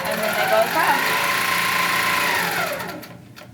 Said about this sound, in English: So you want to hit start, and I'm traveling forward until my long arm hits that C-clamp, okay?